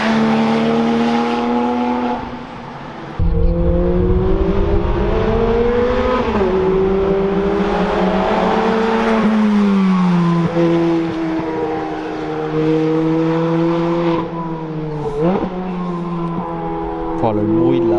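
Ferrari 430 engine revving hard on a mountain road, a loud sustained howl that rises and dips through gear changes, with sharp pops and crackles from the exhaust near the end.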